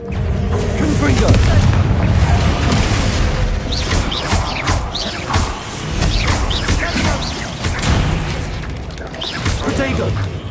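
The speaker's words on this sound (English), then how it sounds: "Confringo!" Confringo blasting spell in Hogwarts Legacy, with loud, rumbling explosive booms and crashes rolling through a busy combat soundscape while a voice speaks over it.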